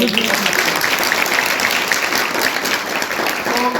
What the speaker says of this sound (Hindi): so please give clap for him